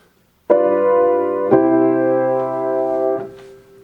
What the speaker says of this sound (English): Another example of a perfect authentic cadence is here.